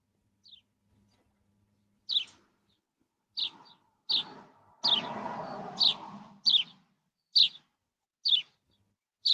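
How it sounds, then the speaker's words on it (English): Birds chirp in a series of short, bright, evenly spaced calls, fairly close and clear over a quiet background, with a brief burst of broadband rustling noise partway through. "I can hear the birds."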